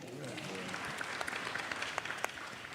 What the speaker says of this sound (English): you guys can clap for it